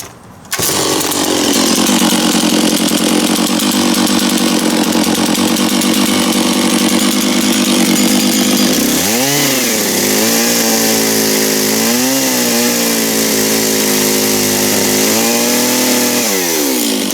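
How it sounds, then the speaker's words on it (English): A saw trimming wooden deck boards runs loud and close with a steady high-pitched motor whine, then the pitch dips and wavers repeatedly as the blade bites into the wood. "a couple of spots here I'm going to maybe nip off with the saw"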